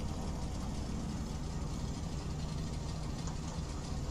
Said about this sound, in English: This engine noise of the Seneca is so amazing.